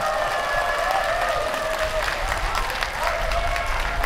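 Audience applause at an outdoor special concert during the 2021 Hamyang wild ginseng anti-aging expo, steady crowd clapping with a little cheering, with a faint tonal hum running underneath.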